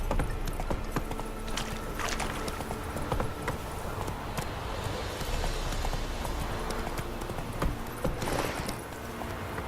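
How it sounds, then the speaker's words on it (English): A horse gallops in The Witcher 3 video game, its hooves beating out a rapid, continuous clip-clop that stays close and steady, with clattering game sounds mixed in. "Run, Roach."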